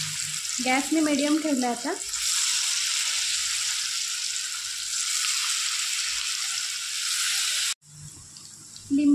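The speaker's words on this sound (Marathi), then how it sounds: "आता मी ह्यात एक एक एक एक कारल्याचे स्लाइस सोडते" Bitter gourd slices dropped into hot oil over a medium gas flame give a steady, loud sizzling hiss that continues unbroken, with someone speaking briefly near the start and again at the end.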